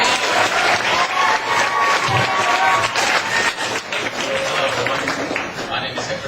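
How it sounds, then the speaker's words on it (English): At a poetry reading night, an audience breaks into loud, sustained clapping to welcome the next performer, with a few scattered cheers and voices mixed into the crowd noise. "please welcome with a big, nice round of applause"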